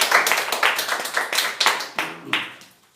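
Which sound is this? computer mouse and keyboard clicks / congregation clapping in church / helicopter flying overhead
congregation clapping in church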